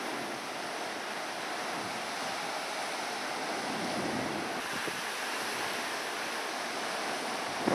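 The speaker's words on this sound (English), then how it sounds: "A lot of white foam and surf coming in here at this point." Sea surf and waves break on a rocky shore with white foam, producing a steady, moderately faint wash of roaring water mixed with wind rumble that continues unbroken.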